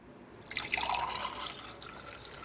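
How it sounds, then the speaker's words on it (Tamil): Grape juice poured from a strainer into a tumbler, a soft splashing trickle that rises after a short pause, holds steady for about a second, then thins to a gentle dribble. "இப்போ நம்ம டம்ளர்ல ஊத்திடலாம்"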